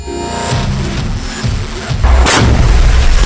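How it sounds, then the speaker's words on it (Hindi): Half a ton of heavy explosives detonates on Israeli border positions, heard as deep, loud booms with rolling rumble and a stronger blast near the end. "نصف طن من المتفجرات يقع على رؤوس المواقع الإسرائيلية في المنطقة الأمامية وفي الحدود"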